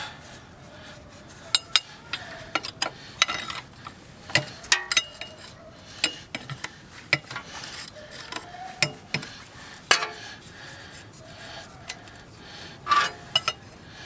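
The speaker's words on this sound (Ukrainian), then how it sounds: "Оскільки воно тут від руки відкручується, то нам тільки відпустити гайка" A wrench loosening nuts on the tiller cover of a mini-tractor: scattered sharp metallic clicks and clinks at irregular intervals, close and fairly quiet, over a low background hiss.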